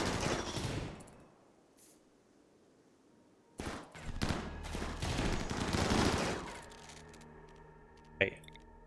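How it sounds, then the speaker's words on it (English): Video game gunfire from a shotgun and an assault rifle: a loud burst at the start, a quiet stretch, then dense sustained firing and a final sharp shot, with a voice talking over it. "Let's have you two fire at Marcus."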